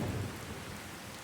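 In the video game Fallout 4, a steady rain hiss is heard with a low rumble of thunder swelling at the start and then fading. There is no talk.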